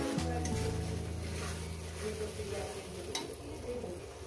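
Spice paste for chicken curry sautés in a pan with a soft sizzle and occasional scraping of a spoon; a low steady hum sounds briefly at the start, and the whole stays fairly quiet.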